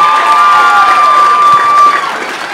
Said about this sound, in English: how about another round of applause for these two young fellas?